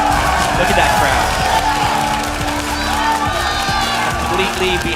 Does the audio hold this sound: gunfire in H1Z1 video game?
no